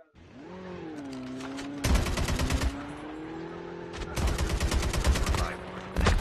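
Bursts of automatic gunfire from the mobile shooter Call of Duty Mobile, three loud volleys separated by brief gaps over a steady droning engine-like hum, with no talk.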